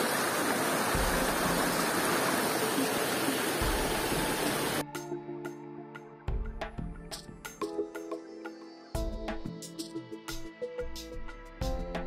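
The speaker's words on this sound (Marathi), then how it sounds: "सुळक्याकडे जाताना वाटेत लागणारा एक ओढा पार करून आम्ही पुढच्या रस्त्याला लागलो" A rushing stream on the trail to the Thitbi pinnacle at Malshej Ghat gives a loud, steady wash of water for about five seconds, then cuts to quieter scattered knocks and rustles.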